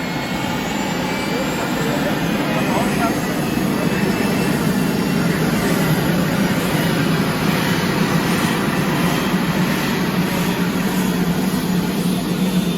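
Steady, loud rotor and turbine roar from inside a helicopter on a flight over Interlaken, Switzerland, a dense, unbroken wash of noise throughout.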